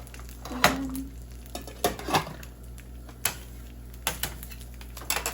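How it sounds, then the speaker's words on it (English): Rice goes into a pan for fried rice with a string of scrapes, clatters and utensil knocks up close, irregular and fairly loud against a low steady hum. "I'm gonna add that much rice."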